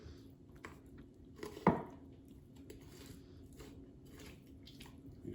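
A knife slices a duck breast away from the carcass in a quiet kitchen, with soft wet cutting and scraping and one sharper close cut in the middle, all under a low steady background.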